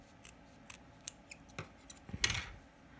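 Scissors cut yellow craft material for pumpkin-style Mickey ears: a series of short, crisp snips in an uneven rhythm, close and fairly quiet, ending in a slightly longer cluster of cuts.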